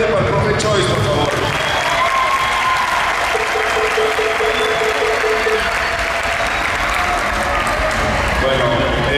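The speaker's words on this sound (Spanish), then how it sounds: "Pido un fuerte aplauso más grande para el profe Choy" A crowd at the opening ceremony of an international volleyball cup applauds the coach, sustained loud clapping filling a large hall, with a voice faintly over it.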